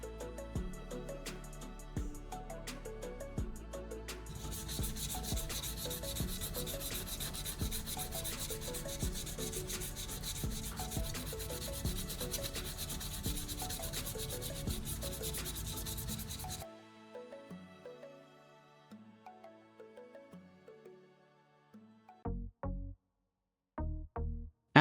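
Close, loud sanding scrapes steadily across a surface, then eases into quieter, intermittent strokes separated by short pauses.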